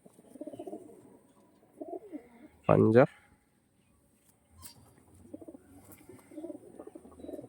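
Pigeons from an old bloodline coo in low rolling bursts at the start, in the middle and near the end, while a voice speaks one loud word partway through.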